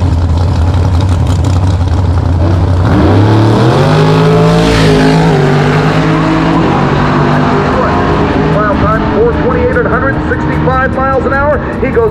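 A drag racing car makes a pass at Lucas Oil Raceway during Drag Week, its loud engine rising and falling in pitch through the gears as it launches and runs, with a commentator talking over it.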